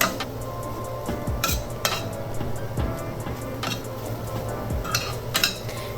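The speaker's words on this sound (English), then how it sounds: "Mix it well one more time." Ground turkey mixed with tomato paste being stirred in a pan, with repeated clinks and scrapes of a utensil against the pan over a low background hum, some sharper knocks standing out.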